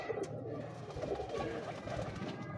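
A female pigeon coos softly at close range, giving a few low, rolling coos over a couple of seconds against a quiet background.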